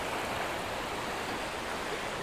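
A river pours over a steep drop-off of roughly fifty feet into a falls. The water makes a steady, broadband rushing roar that holds constant throughout, with no voices.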